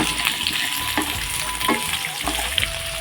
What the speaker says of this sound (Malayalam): കൂടെ ഒന്ന് മിക്സ് ചെയ്ത് കൊടുക്കാം